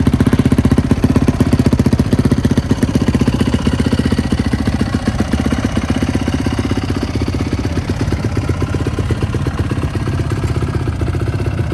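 A dirt bike engine runs loud and continuous at a motocross track, with a steady throaty idle and revving clatter close by and no voices.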